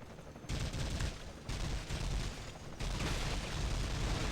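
Heavy turret gunfire pounds away in The Matrix: Path of Neo, a dense, loud barrage of rapid shots and booms that surges in bursts and keeps going without a pause, with no voices over it.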